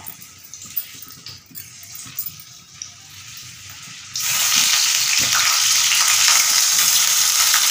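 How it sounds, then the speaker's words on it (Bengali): Potato pieces hit hot oil for a light fry in a Bengali coriander potato curry, and a broad, steady sizzle suddenly jumps up loud and close partway through, following quieter kitchen handling noises. "আলুগুলো দেওয়া হয়ে গেছে, হালকা করে ফ্রাই হবে।"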